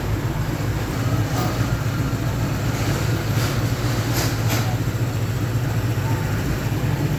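A Honda ADV 160 scooter sits idling just after starting, after a fix for unsteady idle, giving a steady, even low rumble that runs throughout without talk.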